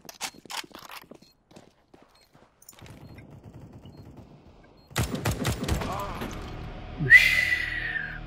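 Gunfire in Counter-Strike: Global Offensive, scattered single shots early on, then a loud burst of rapid automatic fire near the end, mixed with game footsteps and mechanical clicks, with a voice talking briefly in the background.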